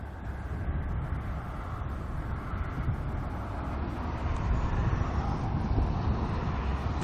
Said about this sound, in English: Beautiful Korean Dreamliner there.